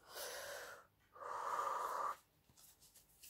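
A person takes a deep breath, heard close up as two long airy breaths, the second louder and fuller, followed by near quiet.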